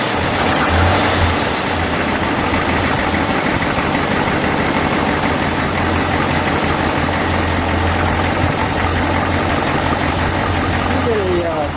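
A 1960 Chrysler 300F engine idles steadily at close range, a continuous low rumble with a faint rattle, running unchanged throughout.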